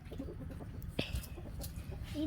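Chickens, including a hen without spots, clucking softly amid a busy farmyard background, with a brief sharper cluck near the middle and steady low murmuring throughout.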